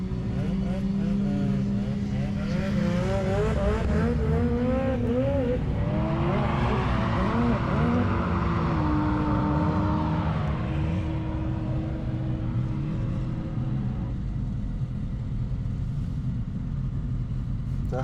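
A Hyundai IONIQ 6 N roll racing a BMW M2 produces a continuous loud drive roar with rising and falling engine-like tones and a steady rumble, heard from inside the car with wind and tyre noise.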